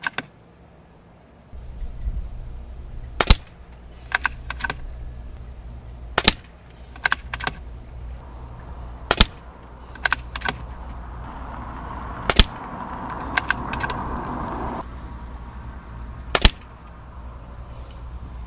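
A Benjamin Marauder air rifle fires sharp, isolated cracks at a target at irregular intervals several seconds apart, each a crisp snap over a quiet outdoor background, with faint handling noise between shots and no talk.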